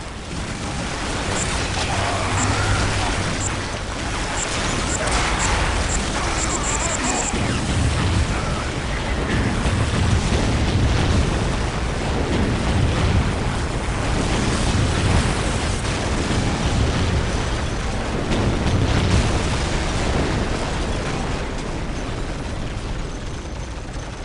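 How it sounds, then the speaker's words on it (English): Explosive blasts and rumbling detonations from a bomb in the Warhammer 40k Dawn of War Soulstorm video game, a loud, dense, continuous roar of booms and debris with no clear gaps. "Use explosives! The what? The bomb, you git! The bomb!"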